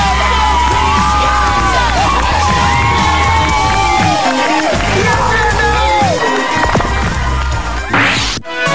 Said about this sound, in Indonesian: Ia pun turun dari panggung dengan tepuk tangan dan tertawaan siswa lain.